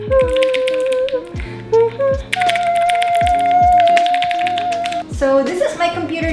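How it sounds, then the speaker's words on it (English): Clicky typing on a pink computer keyboard at a simple home desk setup, a quick run of sharp keystrokes heard close up over a steady musical background. "I love keyboard sounds so much."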